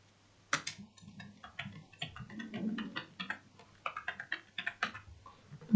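Keys clattering on a computer keyboard as JavaScript code is typed, a quick irregular run of close, crisp clicks in short bursts with brief pauses, heard alone.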